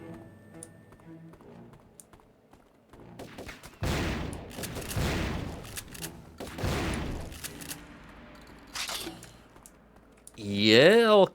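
Shotgun blasts from Hawk Turok's weapon in the Turok 3: Shadow of Oblivion game: three loud, sharp blasts a couple of seconds apart, with mechanical clicks between them and a rising electronic whine at the end.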